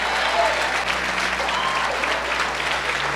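A church congregation at a Baptist family service applauds together, a thick, continuous wall of clapping from many hands with faint voices mixed underneath.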